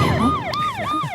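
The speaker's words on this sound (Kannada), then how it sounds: "ambulance ambulance ambulance" An ambulance siren wails close by in repeated rising and falling sweeps, loud and clear over light background noise.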